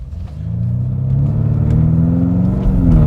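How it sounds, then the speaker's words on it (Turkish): A tuned BMW M5 F90 engine drones steadily from inside the car while driving, a deep continuous rumble with rising pitch toward the end as it accelerates, loud and close with no talking. "Hep beraber bir sürüş yapalım abi"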